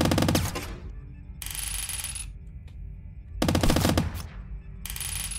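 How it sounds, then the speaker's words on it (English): A gun in the Squirrel with a Gun video game fires in loud, rapid bursts, two long volleys separated by quieter ringing tail-off, with no talk over them. "It's all going to be done with this gun."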